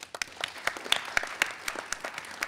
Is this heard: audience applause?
yes